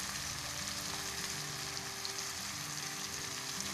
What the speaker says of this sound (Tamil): நல்லா வதக்கிட்டே வாங்க.